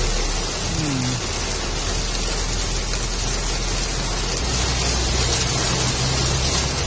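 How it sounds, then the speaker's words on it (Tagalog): Heavy rain falling during a storm, a continuous dense hiss of downpour filling the whole stretch, loud and steady, with a low engine-like drone underneath and no voices. "Ulan pa. Mas matindi."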